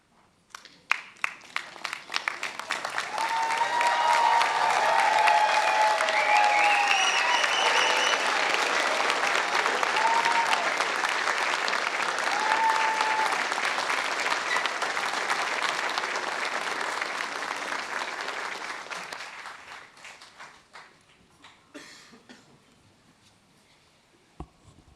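Audience at a UTS engineering and IT graduation ceremony applauding and cheering the graduates: sustained, dense clapping from a large crowd with scattered whoops, swelling quickly and fading out near the end into a few isolated claps.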